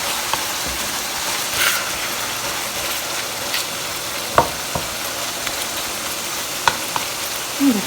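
Chicken karahi sizzles steadily in a hot pan while being stirred, with occasional sharp scrapes and clinks of the spoon against the metal over the constant frying hiss.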